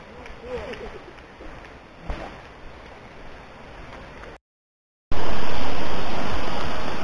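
Srambang waterfall in Jogorogo, Ngawi, a steady broadband rush of falling water that cuts out briefly, then returns much louder and fuller for the last couple of seconds.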